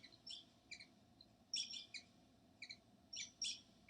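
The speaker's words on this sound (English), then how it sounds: "the birds singing" Birds chirp and tweet in short bright bursts, some in quick pairs, faint against a quiet low background hum with no voices.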